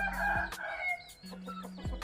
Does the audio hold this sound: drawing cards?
no